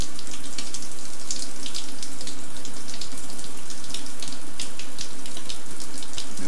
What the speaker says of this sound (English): there you go, there's the shower